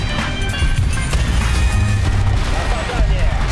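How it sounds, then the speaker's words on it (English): Dense, continuous gunfire in a shooter video game, loud, chaotic, overlapping shots and impacts filling the whole moment, with excited voices mixed underneath. "Just keep shooting, boys."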